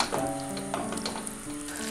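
Cornflour sauce for Indo-Chinese crispy chicken bubbling over low heat, a close, steady sizzle and simmer with small pops and a faint stir running throughout.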